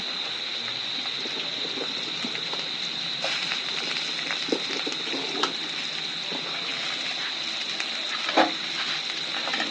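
Sliced carrots and cut yardlong beans sizzling in a pan while being stirred, a constant close frying hiss with occasional soft utensil scrapes and clinks.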